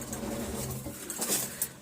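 Pigeons in a loft give soft, low cooing calls close by, with faint rustling and a brief sharper call near the end.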